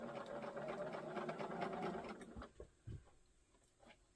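A sewing machine stitches a quilt block for about two seconds in a steady, loud mechanical whir, then stops, leaving only a few soft handling knocks.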